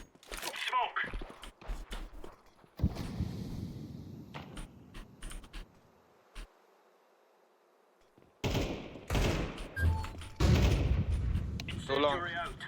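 Desert Eagle pistol gunfire in a first-person shooter match: sharp loud shots in scattered bursts, separated by a quiet stretch, with someone talking over parts of it.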